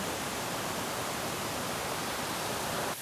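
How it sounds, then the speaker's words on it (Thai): The second tier of Tat Wimanthip waterfall in Isan, a dense, steady broadband roar of falling water that stays constant and close throughout, with no talk. "ชั้นสองของน้ำตกตาพิมานทิพย์นะครับ"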